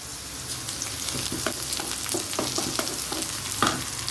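Chicken stir-fried with chili powder and garam masala for a thokku-style dish in a home kitchen: a steady close sizzle of frying, broken by repeated scraping stirs of the spatula against the pan, with no voices.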